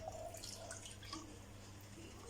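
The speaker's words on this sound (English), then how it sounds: "I'm just going to rinse this cup out with the water." Water trickles and drips faintly as a cup is rinsed out during sugar-based snowball making, a quiet close splashing with scattered droplets.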